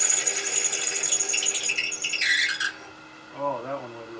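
A lathe drills through a workpiece with a drill bit, giving a loud whirring, rasping grind that cuts off partway through, followed by a short voice after the machine quiets.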